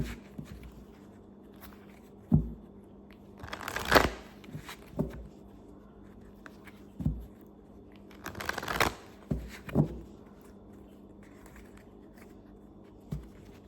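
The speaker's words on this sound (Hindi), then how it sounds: "एक और शफल और फिर स्टार्ट करते हैं।" Tarot cards being shuffled in a few bursts of crisp riffling and slapping, separated by quieter handling and soft taps, close and fairly quiet with no talk.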